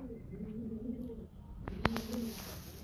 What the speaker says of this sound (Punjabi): ਕਿਆ ਬਾਤ ਹੈ ਇਹਨਾਂ ਕਬੂਤਰਾਂ ਦੀ